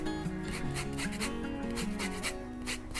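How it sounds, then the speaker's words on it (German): Lemon and orange peel are rasped on a grater to flavour almond flour for a Spanish almond cake, a rhythmic scraping of strokes close up, with music playing underneath. "Hierzu werden wir uns jetzt etwas Zitrone und etwas Orange reiben und das Mehl, das Mandelmehl, so etwas aromatisieren"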